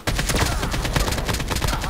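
Rapid automatic gunfire in the video game Call of Duty, a tight continuous stream of shots that is loud and close, with no pause across the short burst.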